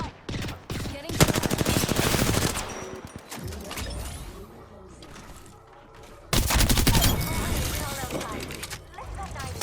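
Bursts of rapid automatic gunfire in the video game Apex Legends, two loud sustained volleys separated by quieter clatter and movement sounds.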